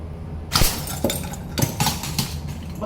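Glass broken by a stainless powder-coated BB shot, with a sharp crash followed by several scattered tinkling impacts of falling shards over about two and a half seconds, and no talking.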